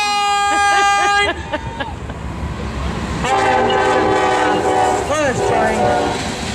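A train runs past with its horn blaring in a long, loud, multi-tone blast at the start, then a steady rumble and a second sustained horn call near the end, with some voices underneath.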